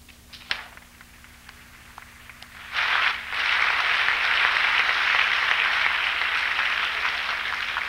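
An audience bursts into applause after a few scattered claps, building quickly into a broad, sustained clapping from a large crowd that continues steadily to the end with no talk over it.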